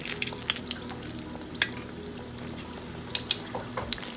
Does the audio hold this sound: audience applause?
no